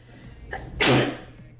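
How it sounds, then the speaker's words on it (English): A single sharp sneeze bursts out close to the mic, preceded by a short sharp intake of breath. "oh, I'm gonna sneeze."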